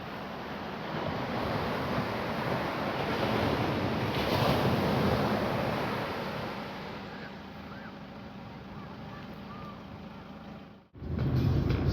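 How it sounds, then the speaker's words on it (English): Surf from the calm Andaman Sea washes steadily, with wind buffeting the microphone and a brief sharp dropout near the end. "have a look at this, how calm and beautiful the Andaman Sea is here"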